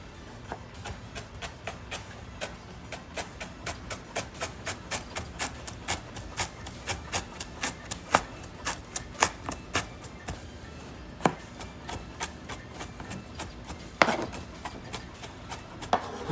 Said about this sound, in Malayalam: നമുക്ക് ജിഞ്ചർ അരിയാം.